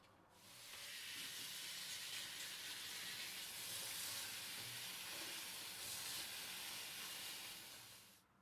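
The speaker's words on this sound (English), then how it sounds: "So I'll rinse them first." Rock samphire seed pods rinsed under running tap water for pickling, a steady broadband hiss of flowing water that holds level for several seconds, close and moderately loud with no talk.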